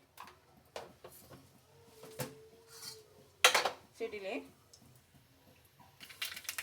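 Mustard and cumin seeds splutter in oil for tempering, giving scattered sharp pops and crackles at uneven intervals, close and fairly quiet, with clinks of utensils against the pan.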